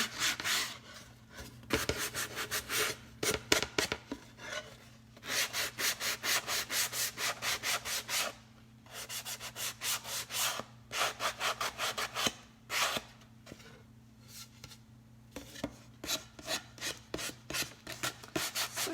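A wooden Valentine's door hanger being sanded by hand, a steady series of rhythmic scratchy rubbing strokes in bursts with brief pauses between them, close and fairly quiet, no voices.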